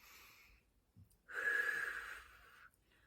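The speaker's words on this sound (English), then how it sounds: "Breathe in through the nose." A child breathes in slowly through the nose as a calming exercise, one steady airy inhale lasting about a second and a half, close and fairly soft, with quiet room tone before and after.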